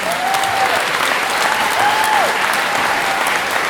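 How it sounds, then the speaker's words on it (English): Steady, dense applause from a crowd at a community meeting for firefighters after the Cranston Fire in Idyllwild, filling the room evenly and continuously, with a voice faintly audible beneath it. "So let's give them another round of applause, please"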